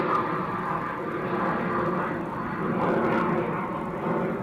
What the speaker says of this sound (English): Smart Jet just taking off to Leeds in a Hawker Beechcraft.